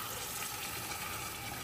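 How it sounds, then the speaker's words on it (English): Warm water pours steadily into a pot of Jamaican curry pork, a continuous broad splashing gush at close range with no talk. "Now we're gonna add some water. I'm gonna use warm water. I'm adding 4 cups to start."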